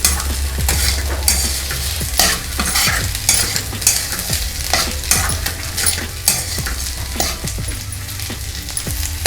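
Maggi rice with fresh coriander stirred in a hot pan: steady loud sizzle with repeated clattering spoon scrapes against the metal, close up and continuous, no voices.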